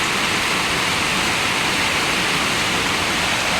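Rainy-season water pours steadily into a solar drying shed built for drying areca nuts, making a loud, continuous rushing wash with no talking.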